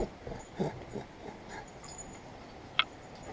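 Dogs play nearby with faint whimpers, soft yips and panting, broken by a couple of short sharp squeaks, all quiet against a low background.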